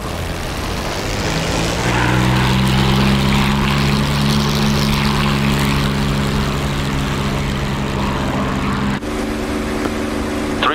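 A WWII propeller aircraft engine droning steadily in flight in the DCS combat simulator, a loud continuous throbbing hum whose pitch rises slightly and holds, then shifts abruptly near the end.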